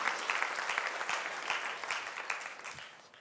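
A church congregation applauding during a Sunday service, steady dense clapping that fills the space from start to finish at moderate volume.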